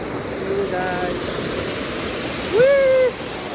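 A rushing mountain stream on the trail from Dunai toward Renchi and Phoksundo roars as steady, loud broadband water noise, with a couple of brief voiced calls rising over it.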